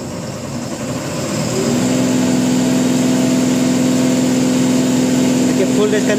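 A Mahindra Blazo BS6 diesel truck engine is pushed to full throttle, its loud steady drone rising after the first second and holding near and sustained; a voice speaks over it at the start.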